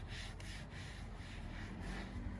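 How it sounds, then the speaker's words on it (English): A sponge wiping sealer onto a scratched, worn leather car seat, a soft, steady rubbing swish that carries on without a break at low volume. "So the sealer wipes on pretty easy"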